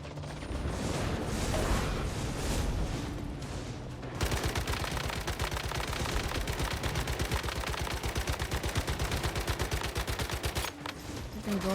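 Rapid automatic gunfire from the video game Biotech & Beasts rattles on continuously in dense, evenly spaced bursts, loud and close. It becomes a steady machine-gun stream after a brief rougher opening.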